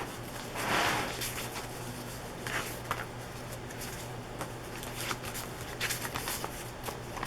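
Old paper letters and envelopes handled and sorted for a vintage document collage, giving a steady soft rustling and shuffling of paper with occasional crinkles, close and low over a faint background hum.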